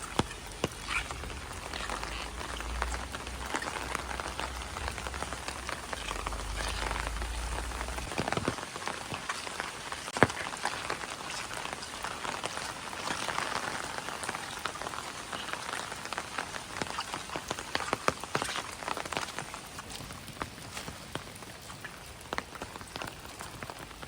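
Steady rain pattering on surfaces in Kharoshi village, Maharashtra, during flooding, dense and continuous, with a low rumble early on and scattered louder drops.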